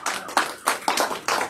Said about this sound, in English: Well, let's give Tom a round of applause.